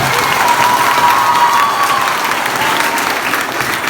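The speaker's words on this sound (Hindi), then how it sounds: "तो बच्चियों के लिए एक बार जोरदार तालियां" Audience applause at a college event in honour of girls who scored well, a dense, steady wash of many hands clapping at close range, loud throughout and fading slightly toward the end.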